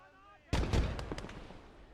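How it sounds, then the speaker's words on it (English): Grenade explosions in the World War II video game Gates of Hell, a sudden close blast followed by several quick crackling detonations that fade out. "The counter barrage is going in with grenades."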